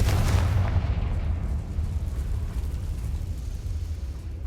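Confringo blasting spell explosion in the Hogwarts Legacy video game, a single heavy boom with a deep rumbling tail that slowly fades away.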